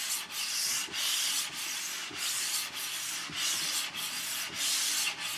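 A metal hand plane sole is pushed back and forth over a Porter Cable abrasive roll to flatten it, making a continuous close scraping hiss with regular stroke reversals and no voices.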